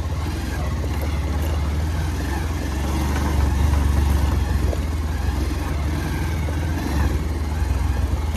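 A Bajaj Pulsar 220F motorcycle engine drones steadily as it starts up a rough uphill road toward Ghandruk, a loud continuous low hum with slight swells in load and no voices.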